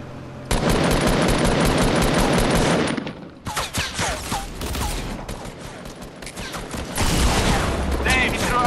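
Rapid automatic gunfire rings out in a Fortnite match: a long loud burst, then scattered shots, then another sustained burst, with voices talking between them.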